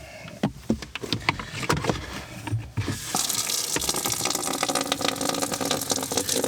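Water runs and splashes into a container inside a van on a windy day, first in uneven gurgling bursts and then as a steady, close rushing pour.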